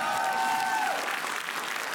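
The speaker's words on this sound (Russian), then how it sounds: "Аплодисменты!" Studio audience applauding on the Russian TV game show Dengi ili Pozor as a guest is introduced; dense continuous clapping fills the whole stretch, with a brief tonal music sting at the start.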